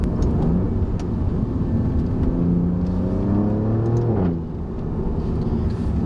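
A tuned 560 hp Alfa Romeo Giulia Quadrifoglio with a Squadra Tuning upgrade accelerating hard, engine note climbing steadily through the rev range before a gearshift drop, then pulling again, loud and close.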